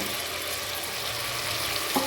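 Tomatoes go into a hot frying pan after dried red chilli, green chilli and onion paste for tomato rice, producing a steady loud sizzle with a brief scrape of stirring near the end.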